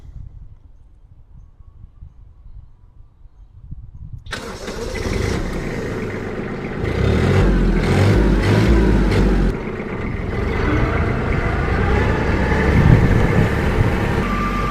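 A Kubota GB-18 compact tractor's diesel engine cranks and fires after a quiet glow-plug pause, then settles into a loud, close, steady running clatter with brief throttle changes.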